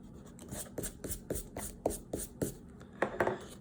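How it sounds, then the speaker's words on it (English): An eraser is rubbed over a pencil drawing on paper in quick, evenly spaced scrubbing strokes, about a dozen of them, close and quiet with no talk. "I'm gonna erase this guy so I could draw a ball in there"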